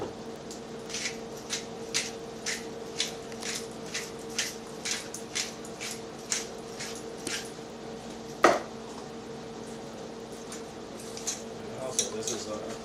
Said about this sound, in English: stir up the meat, you know, get it nice and seasoned